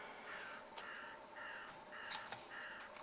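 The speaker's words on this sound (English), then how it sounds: "There's a crow outside now, being very noisy." A crow caws noisily outside, a series of about five or six harsh calls in an uneven rhythm, heard faintly from indoors with no speech over it.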